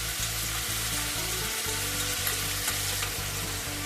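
Sauces sizzle loudly in a hot pan for Jain-style soya manchurian, with a steady frying hiss and a few scraping stirs of a spoon, no voices.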